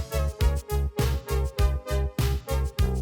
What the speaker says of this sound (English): the song got way slower, but it was also pitched down a lot